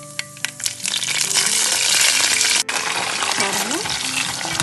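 Curry leaves and mustard seeds go into hot oil for a garlic vatha kuzhambu and crackle in a loud, dense sizzle, with a few sharp pops and stirring clinks, close up.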